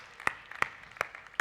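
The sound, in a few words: audience applause for quiz winners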